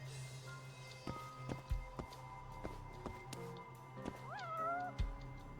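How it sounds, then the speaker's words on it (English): A cat meows repeatedly in the video game Judgement, with a few short calls and a rising, drawn-out meow near the end. Soft footsteps and quiet game ambience run underneath. "Obviously there'll be a cat here somewhere."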